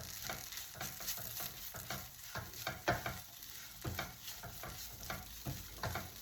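Okra being stirred with dry mango (amchur) powder in a pan, a steady soft sizzle broken by repeated scraping strokes of a spoon, close and moderately quiet, with no talking.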